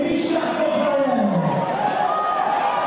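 A crowd at a strongman competition cheers and roars in a continuous, loud, dense wash of voices, with rising shouts running through it.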